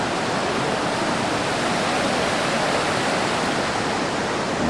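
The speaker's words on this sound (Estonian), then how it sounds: "Nüüd ma neid koske." River rapids in Croatia rush loud and steady, a dense broadband roar of churning water that stays constant throughout with no voices.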